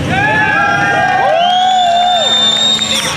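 A crowd cheers, whoops and shouts loudly at a car rev battle at a Clean Culture meet in Japan, a dense sustained roar of many voices with sharp high shouts lasting throughout.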